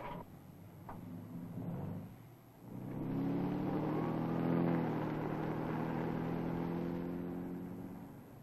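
A car starts up and pulls away after a brief quiet pause, its engine rising into a steady, moderately loud drive that fades slightly at the end, with no talk.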